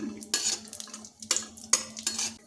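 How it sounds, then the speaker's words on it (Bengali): Broken cashews frying in hot ghee in a wok while a spoon stirs them, with loud metallic scrapes and clinks in bursts over a faint steady hum. "ঘিটা গরম হলে কাজু ভাঙা এর মধ্যে ভেজে নিচ্ছি"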